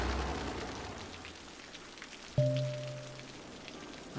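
Steady rain hisses evenly in the city-building game Cities Skylines, a soft continuous patter throughout, with a brief tonal game chime near the end.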